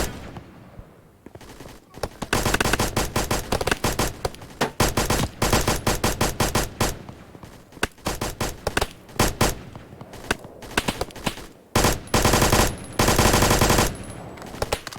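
Rapid automatic gunfire in the video game Blackhawk Rescue Mission 5, loud dense bursts of shots firing almost continuously with brief pauses between volleys.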